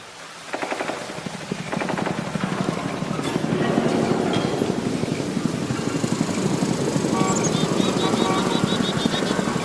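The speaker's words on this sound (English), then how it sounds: "this is what the distant ambient helicopter sounds like in Warframe 1999" Ambient helicopter from the video game Warframe 1999, a continuous rotor-like throbbing rumble layered with a noise sweep, building slightly in intensity and sustained throughout.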